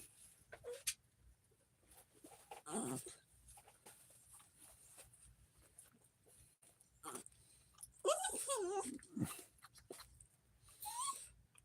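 An indoor dog makes scattered whines and sharp yelps over several seconds, near the recorder and against a quiet, hissy room background. A louder cluster of cries comes late in the sequence.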